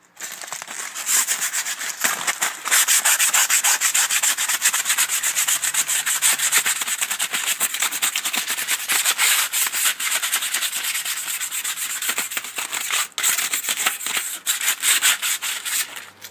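Crumpled aluminum foil scrubs rust from an old bike with phosphoric acid, making a continuous gritty, scratchy rubbing in quick back-and-forth strokes, close and fairly loud throughout.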